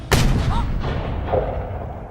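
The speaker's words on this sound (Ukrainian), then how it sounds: "Та Джек стріляє в барбосу" A single loud gunshot cracks out in a scene from the film Pirates of the Caribbean: The Curse of the Black Pearl, followed by a booming, echoing rumble and lingering cinematic background noise.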